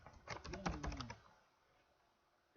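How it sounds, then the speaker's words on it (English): Typing on a computer keyboard, a quick burst of close clicking keystrokes that fades to quiet, with one more click at the end. "So I'm going to type in our color."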